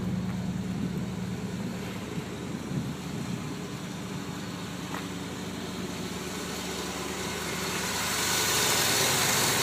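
A Cutlass Supreme engine idles steadily through dual exhausts with no mufflers, a low continuous rumble heard alone throughout, growing slightly louder and hissier toward the end.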